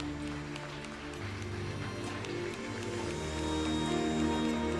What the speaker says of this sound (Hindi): तालियों के साथ स्वागत कीजिए और तालियां बजती रहनी चाहिए।